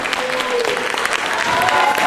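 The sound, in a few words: audience applauding Fernanda Montenegro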